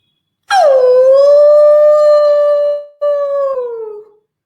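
A wolf howls loudly and close in a folktale setting, one long sustained wailing tone, a brief break, then a shorter howl that falls away; no talking.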